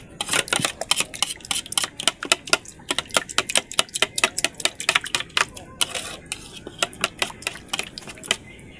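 A utensil stirs food in a cooking pan while fish is being cooked, scraping and clinking in rapid, irregular strokes that come close and sharp, alone for several seconds with no voices.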